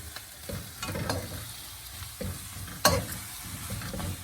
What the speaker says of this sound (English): And then let's stir it. We're gonna stir that.